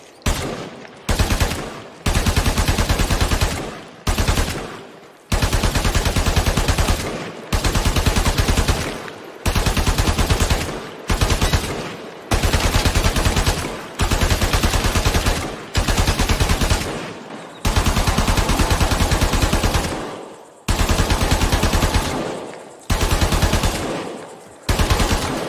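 Machine-gun fire in the video game Warframe with convolution reverb, loud sustained bursts of rapid shots lasting a few seconds each, separated by short gaps where a reverberant tail rings out.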